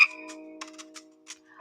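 A cartoon-style green frog croak effect plays as short repeated bursts over a steady background music tone, alone without talk, moderately loud.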